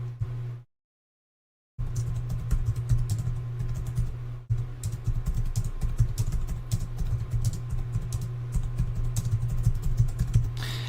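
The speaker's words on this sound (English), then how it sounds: "let me just type this in here" Rapid, close keystrokes on a computer keyboard run almost continuously after a brief silent gap, layered over a low steady hum.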